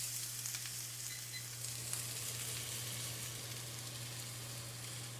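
Onions sizzle steadily in a hot pan, cut flat side down to caramelize, a continuous close broadband frying hiss with faint crackles and a low steady hum underneath, no talking.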